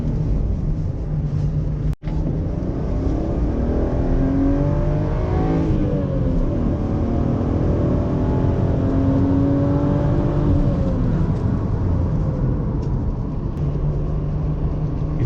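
A BMW 323ti with a 2.8-litre M50 straight-six, fitted with a Z3 steering rack, revs steadily while driving, its engine note rising and falling through the gears with a brief sharp click near the start.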